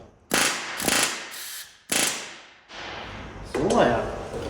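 Rivets being driven in a workshop: a series of sharp, loud metallic bursts in an uneven rhythm, each ringing briefly before fading, with a faint mechanical rattle near the end.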